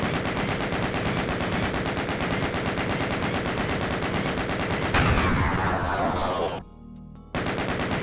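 Rapid gunfire in the DOOM video game, a dense continuous stream of loud shots with a brief drop in the middle before the firing resumes, close and without talking.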